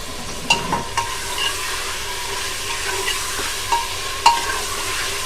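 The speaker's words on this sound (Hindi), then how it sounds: "इसे 1-2 मिनट भून लेंगे।" Steady sizzling of ginger-garlic paste frying in a hot pan, with occasional scraping taps of a spoon stirring against the metal.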